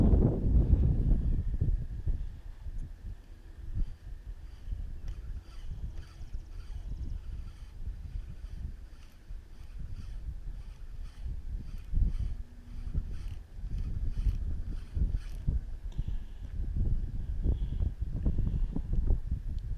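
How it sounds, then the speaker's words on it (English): Strong wind at a lake buffets the microphone in a continuous low rumble that swells and eases in gusts, with faint clinking and knocking sounds in the background and no speech. "Wind's kind of strong right now."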